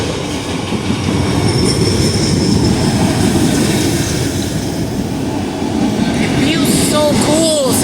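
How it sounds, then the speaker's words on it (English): A CSX freight train passes close and loud, its steady roar and rattling wheels filling the scene, with a voice breaking in near the end. "Finally seeing a CSX train."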